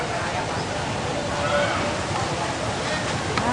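Floodwater rushes past: a continuous, broad, steady roar of moving water, loud and close, with a voice faintly audible beneath it.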